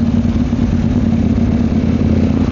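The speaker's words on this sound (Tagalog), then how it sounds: "Busy ang kalsada ngayon, daming motor, daming wheels, hindi makahataw ng takbo." Motorcycles and other vehicles on a busy road near Mt. Buntis, Maragondon, Cavite, producing a steady, loud engine drone with a low idling rumble and no gaps.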